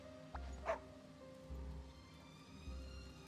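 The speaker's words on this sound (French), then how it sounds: "Aboiement enthousiaste." A dog character, Tramp, in the Disney Dreamlight Valley video game gives a short burst of enthusiastic barking over soft game background sound and low music.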